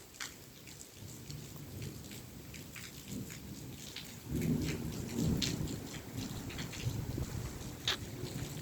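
Steady rain falls on a farm, joined by thunder that deepens into a heavier rumble midway, with scattered louder drops pattering nearby.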